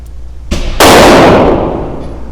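A single loud gunshot from a CZ Shadow 2 pistol on an outdoor range, a sharp crack followed by a longer booming decay, with a faint click just before.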